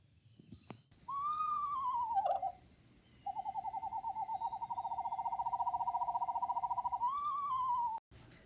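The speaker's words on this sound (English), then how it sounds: "The call of this bird sounds like the whinny of a horse." A raptor gives a long, clear whinnying call much like a horse's neigh: a sliding opening note, then a sustained rapidly trembling tone, ending with a brief rising flourish, heard alone and close.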